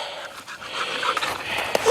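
A hunting dog pants rapidly and audibly after retrieving a partridge in the Corsican scrub, with quick breathy huffs and a snort, close to the microphone.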